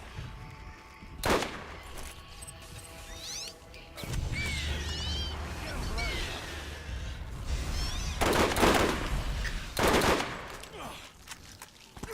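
Borderlands gunfire comes in several loud bursts, some sharp single cracks and some sustained rapid fire, spread across a busy combat scene with other game effects between them.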